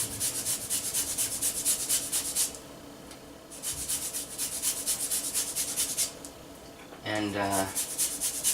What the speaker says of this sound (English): I've got a microplane here. And we're just going to zest this lime.